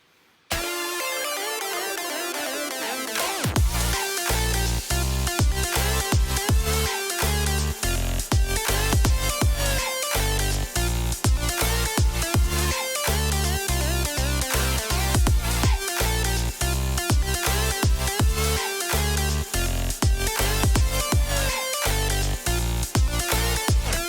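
A loud, dense EDM drop with sidechained downlifters and crashes, opening after a brief buildup and pumping with a steady rhythmic throb throughout, full-range and continuous with no voices.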